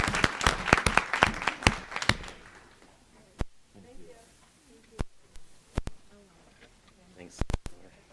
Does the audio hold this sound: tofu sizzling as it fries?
no